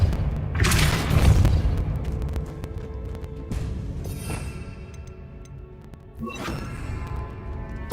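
Repulso spell cast in the Hogwarts Legacy video game: a loud booming blast with a whooshing burst, followed by further rumbling impacts and a second sharp hit later, over a dense layer of game music and effects.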